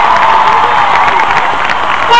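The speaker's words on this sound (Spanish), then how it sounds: "Fuerte ese aplauso para el teclado y piano" A concert crowd at a 1998 show in Córdoba roars with applause and cheers for the keyboard and piano player, loud, dense and continuous with shouts mixed in.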